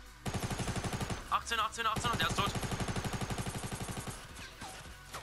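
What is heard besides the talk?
gunshots in Fortnite video game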